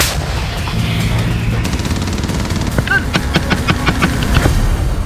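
A heavy artillery gun fires at enemy vehicles on the front line amid loud, rumbling outdoor noise, followed by a quick series of sharp cracks.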